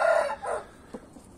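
A young silver hen gives a short burst of clucking with a brief crowing note, close and fairly clear, with no voices.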